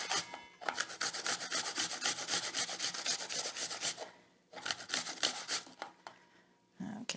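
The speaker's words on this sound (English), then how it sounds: "all I'm going to do is grate the whole apple" A whole apple is grated on a fine grater in fast, steady rasping strokes, close and loud, with a brief pause before another run of grating.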